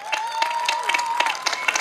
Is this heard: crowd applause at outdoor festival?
yes